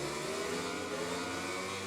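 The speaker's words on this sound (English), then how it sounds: "So here's Stone revving up right at the back" A motorcycle engine revs loudly and steadily on the grid before a five-lap race start at Silverstone in the MotoGP 20 video game, a dense continuous engine roar with no talk.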